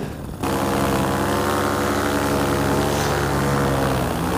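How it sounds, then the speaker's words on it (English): A propeller plane flies by a paramotor pilot at a breezy launch site, a loud steady droning buzz that holds throughout, close and continuous. "I guess that's my flyby. Sweet plane."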